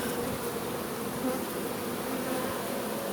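A honeybee swarm buzzes steadily and close up as the bees spread and crawl across an open hand, a dense continuous hum with no voices.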